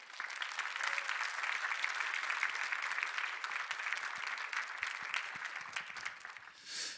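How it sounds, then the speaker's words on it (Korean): Audience applause at a book lecture by an author, steady dense clapping from a large crowd throughout, fading toward the end. "한번 박수를 한 번 맞아 주시겠어요?"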